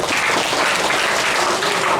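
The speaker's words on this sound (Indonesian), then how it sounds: "Tepuk tangan dulu." Classroom audience applause, brisk and continuous clapping from many hands, loud and even throughout the short burst.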